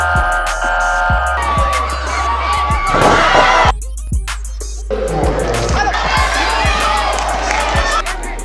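A crowd cheers and shouts at a boxing national qualifier in Branson, Missouri, the loud noise swelling, dipping briefly, then returning, with a deep steady hum and repeated thumps underneath.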